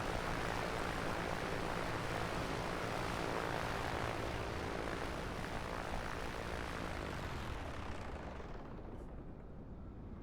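Simulated A2A Accu-Sim 600 aircraft engine in MSFS 2024 shutting down: a loud, steady propeller-engine drone that winds down and fades near the end, with no talking.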